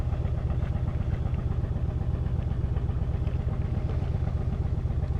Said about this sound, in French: Je vais tourner le moteur pour le frigo